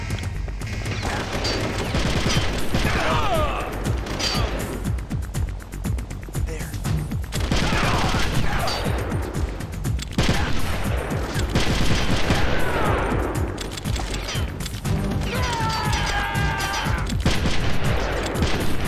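Gunfire rattles through Metal Gear Solid: The Twin Snakes, loud repeated bursts of shots and explosions across the stretch, with game effects layered in.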